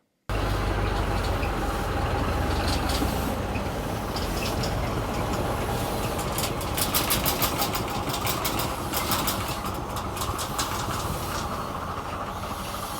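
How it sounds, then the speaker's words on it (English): A steam locomotive of the Lynton and Barnstaple Railway moves on the line with a steady, loud rumble and hiss and a rhythmic clatter of wheels over rail joints, continuous and close, with no talking. "before we take the locomotive outside"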